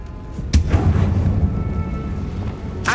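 Confringo spell blast in Hogwarts Legacy inside a tomb: a sharp explosive crack followed by a deep rumbling boom that lingers, then another bright burst near the end.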